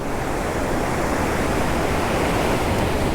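Ocean surf breaking on a beach spot used for fishing, a loud continuous roar of crashing waves and broadband wash filling the whole stretch with no pause.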